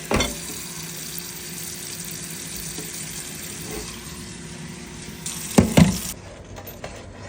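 Mackerel rundown cooks in a pot, giving off a steady, soft sizzle and bubbling, with a brief louder clatter and splash near the end and no talking.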